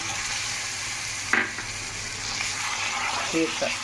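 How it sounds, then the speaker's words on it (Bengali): Cashews and melon seeds fry with spices in a pan, giving a continuous sizzle with a couple of sharper clinks or stirring knocks. "এবার কাজু বাদাম আর চালমগজটা দিয়ে দেবো"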